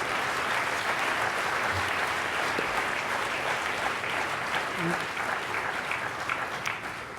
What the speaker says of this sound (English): please join me in applauding a wonderful inaugural speech.